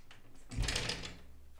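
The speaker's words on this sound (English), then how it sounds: "But let me close this door." A door closes indoors with a single muffled, close thump and a brief rattle, fading into quiet room tone.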